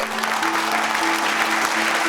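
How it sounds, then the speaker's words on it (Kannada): A studio audience on the Colors Kannada comedy show Gicchi Giligili S03 claps steadily, a dense, even patter of applause with faint sustained tones underneath. "ನಿಜವಾಗ್ಲೂ ಜೋರಾದ ಚಪ್ಪಾಳೆ ಬರಲಿ"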